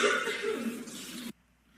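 A person's nervous coughing, a rough, breathy burst of throaty coughs lasting just over a second before cutting off abruptly into near silence.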